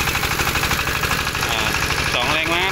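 Small engine of a compact rice milling machine running at a steady, loud mechanical chug with rhythmic knocking vibration, heard up close, with a voice speaking over it partway through.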